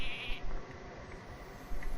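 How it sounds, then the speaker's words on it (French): Sheep bleat from a polymorph spell cast in the Hearthstone card game, a short bright synthetic burst heard alone over steady game background ambience. "transformer l'abomination en mouton"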